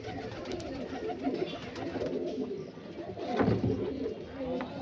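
Pigeons of an Andhra breed coo steadily in a loft, a low continuous murmur of several birds close by with faint chirps and background noise.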